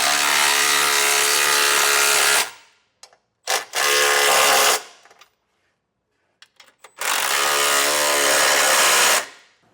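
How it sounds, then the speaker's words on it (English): Power tool with a 19mm socket snugging down trailer hitch bolts on a 2025 Kia Sorento, three loud sustained bursts of whirring and ratcheting, close up, separated by short pauses and small clanks, no talking. "we can go over them with a 19mm socket and get them snugged down"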